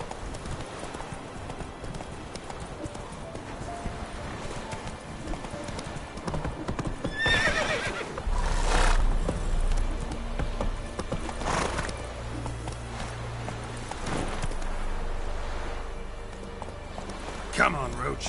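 Roach, the horse from The Witcher 3 video game, gallops with fast, steady clip-clop hoofbeats and a few whinnies and snorts, while game voices and music sit around the thudding gait.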